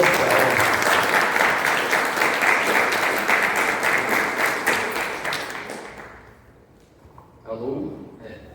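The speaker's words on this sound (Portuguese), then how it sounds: "Uma salva de palmas aqui para o Bruno Gonçalves." Audience applause for Bruno Gonçalves at a free-software tech event, a dense burst of clapping that fades out after about six seconds, followed by a short voice.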